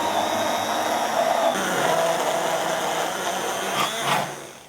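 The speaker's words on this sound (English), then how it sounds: "we're going to whisk it up so it's all mixed in together properly" Egg mixture for sopa baracha being whisked, a steady whirring, rushing sound that runs close and loud without a break for several seconds and then tapers off at the end.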